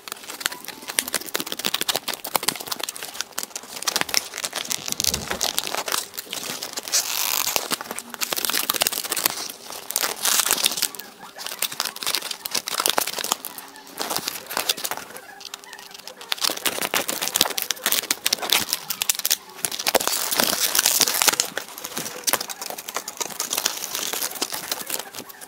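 Plastic packaging of a new set of earphones being opened, with steady crinkling and rustling of wrapping close up, loud and continuous with brief tearing moments and no talk.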